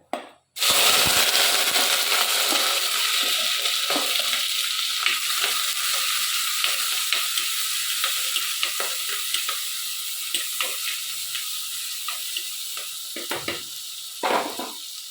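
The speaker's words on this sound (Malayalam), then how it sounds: "കുറച്ച് ഉലുവായും കൂടി ഇട്ട് പൊട്ടിക്കുന്നുണ്ട്." Mustard and fenugreek seeds spluttering in hot oil in a pan: a loud, continuous sizzle scattered with sharp crackles and pops that eases slightly over time, with no talking.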